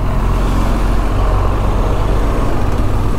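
Heavy trucks, buses and cars idle and rumble in a night traffic jam at the Berhampore rail gate, a dense, steady low engine drone close by with no break.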